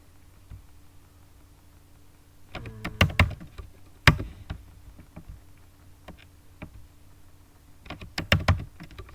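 Keys clack on a computer keyboard in sparse bursts, a quick flurry of typing, a single firm keystroke like Enter, then another cluster of taps, close and dry over a quiet room.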